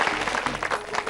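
A game-show studio audience claps in a short burst, a dense patter of many hands sounding moderately loud and even for about a second.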